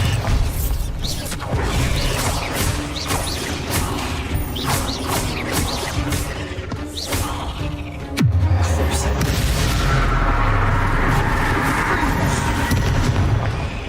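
A Bombarda blasting spell in Hogwarts Legacy inside a tomb sounds as a burst of crashing, rattling impacts followed by a heavy boom and rumbling debris.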